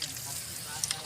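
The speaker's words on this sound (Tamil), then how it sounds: "சில்லி பவுடரில் கலக்கின வாழைப்பூவை எண்ணெயில் போட்டு பொரிச்சு எடுத்துடலாமே" Banana flower coated in chili powder deep-frying in hot oil, giving a brief, steady crackling sizzle close by with a couple of small pops.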